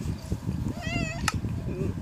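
A house cat gives one short meow close by, over a steady low background and talk.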